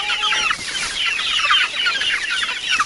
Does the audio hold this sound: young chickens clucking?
yes